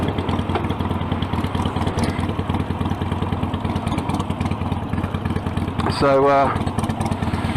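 A motorcycle engine runs steadily on a rainy ride, a loud constant low drone with a brief rattling surge near the end, while a rider talks over it.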